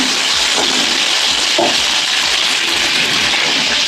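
Pieces being fried until reddish-brown in a pan for a Bengali home-cooked dish give off a loud, steady hissing sizzle that runs unbroken from start to end, with no voices over it.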